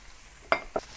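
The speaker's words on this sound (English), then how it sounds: "It tastes better for the bok choy if you stir fry the bok choy for a little while." Bok choy stir-fried in a pan for a vegetarian udon dish: two short, loud scraping stirs against the pan over a faint background, the first stronger than the second, with no talk.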